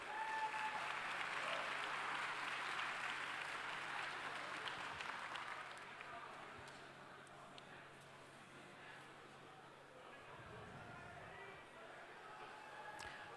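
A seated audience at a Formula SAE Michigan awards ceremony claps for three competing student teams; steady crowd applause, loudest at first and thinning toward the end, with a voice briefly audible.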